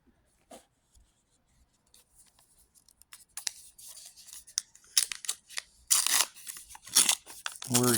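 Star Wars Unlimited Shadows of the Galaxy booster packs are opened up close, starting with a few faint ticks and building into loud crinkling foil and sharp tearing.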